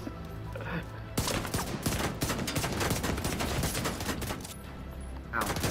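Gunfire in the shooter Tom Clancy's The Division 2, a sustained rattling burst of rapid shots starting around one second and running for several seconds, fairly quiet overall.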